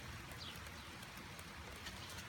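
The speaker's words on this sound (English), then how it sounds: "We're finally getting some much needed rain here, which is coming down like cats and dogs right now" Heavy rain pours down steadily in a thunderstorm, a dense continuous hiss of drops drumming on surfaces, close and unbroken throughout with no voices.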